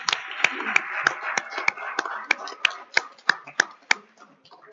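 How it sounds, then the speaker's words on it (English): A small room at a town board meeting gives a brief round of applause, a few sparse, distinct claps ringing out close and crisp before trailing off. "One more round of applause for Darren and Cole"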